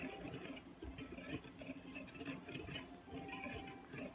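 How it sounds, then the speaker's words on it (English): Dry cornbread ingredients, including flour, salt, baking soda and sugar, mixed in a bowl, with quiet close scraping and light clinks of a utensil against the bowl, steady and faint with no talk. "so now we're just gonna mix all that together"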